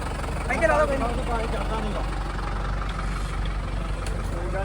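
A tractor engine idling steadily close by at a village tractor service camp, a low continuous rumble with people talking over it.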